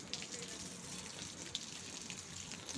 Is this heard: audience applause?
no